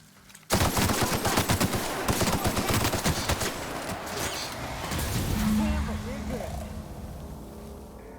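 Rapid automatic gunfire in The Outer Worlds erupts abruptly and rattles on loudly for several seconds as a mantisaur hive is stormed, then tapers into a busier mix of game sounds.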